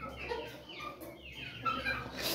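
Chickens and small chicks in a backyard coop cluck and peep in short, overlapping calls, fairly close and continuous over a steady background hum.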